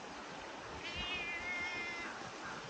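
Kitty, a cat at a garden walk-around, lets out a drawn-out, complaining meow, faint and somewhat distant, over a steady wash of outdoor background noise.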